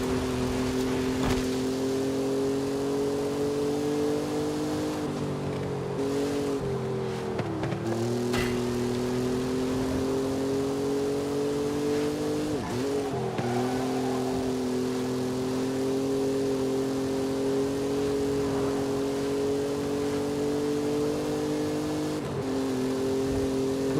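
A car engine revs in Forza Horizon 5, holding a steady high-pitched drone with harmonic layers. The pitch dips and climbs again several times as the car shifts gears, loud and continuous throughout.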